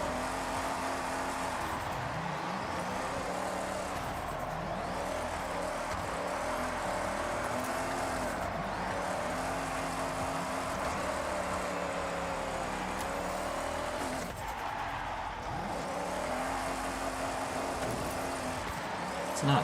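A BMW M2 Forza Edition in Forza drives with the e-brake held, its engine droning steadily with rising and falling pitch as it revs, continuous and fairly close.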